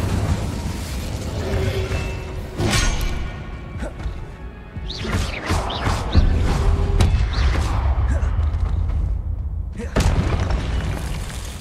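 Hogwarts Legacy spell combat with a fiery Incendio cast among booming impacts, crashes and whooshes, loud and layered over a rumbling game score, with a voice calling out spells.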